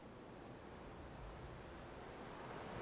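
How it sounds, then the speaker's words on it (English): Steady ocean surf recorded at a beach, used as a natural background bed in a music track; a continuous, soft broadband wash of waves with no voices. "I love using like natural sounds. And so I pulled in this ocean,"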